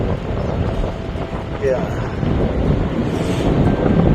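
Steady wind roaring and buffeting across the microphone in snowy Nikko, Japan, with a brief spoken word partway through.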